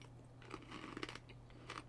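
Crunchy edible insects from a vending machine being bitten and chewed near the mouth, a soft run of crackly crunches over a faint low hum.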